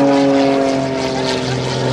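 Propeller airplane at a military open house air show, engine droning steadily and loud for the whole stretch as it flies rudder-kicking aerobatic passes, with a low harmonic hum and shifting pitch.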